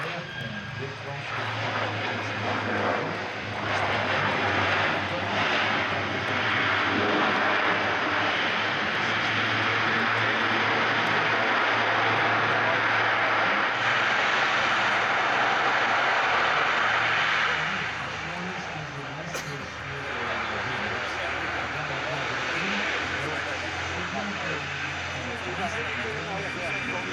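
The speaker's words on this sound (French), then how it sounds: "Léger arrondi, les roues caressent la piste et à peine sont-elles par terre qu'on déclenche" Aircraft landing during a flying display at the Le Bourget 2015 airshow: steady engine roar and rushing jet noise throughout, swelling in the middle, with a French commentator talking over it.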